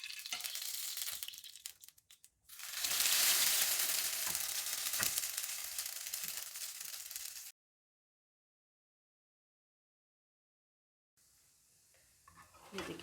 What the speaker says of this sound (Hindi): इसी तरीके से हम दूसरा स्लाइस इस पे फ्राई कर लेंगे।